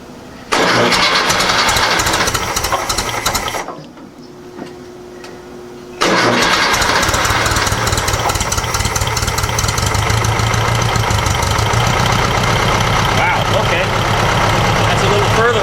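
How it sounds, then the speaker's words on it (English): A 1956 VW Beetle engine cranked with a screwdriver shorting the solenoid, catching and running loudly, cutting out briefly, then restarting and holding a steady rough idle, with some speech in the clip. "a screwdriver is what I use to short out the solenoid to make it turn over"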